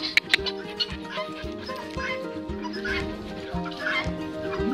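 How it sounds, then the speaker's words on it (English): Shrill, repeated calls from a flock of guinea fowl on a farm, overlapping and continuous, with some low rumbling background noise throughout. "Guinea fowl ready for bed."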